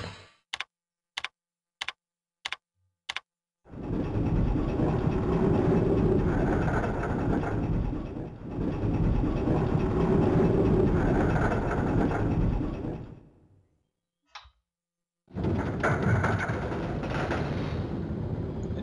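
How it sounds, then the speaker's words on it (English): Tram arriving in the video game Resident Evil 2: a run of sharp ticks, then a loud, steady rumbling roll that pauses, resumes, cuts out and picks up again, with no voices. "Okay, got to recall the tram."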